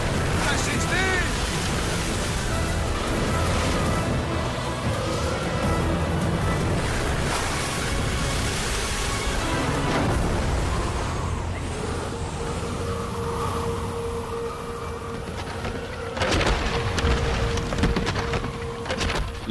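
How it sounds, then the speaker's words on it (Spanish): A violent storm at sea lashes a wooden ship, with loud continuous crashing surf, roaring wind and splintering timber that rage throughout, easing slightly in the middle before surging again near the end. "La tormenta destroza la nave y toda la tripulación se ahoga."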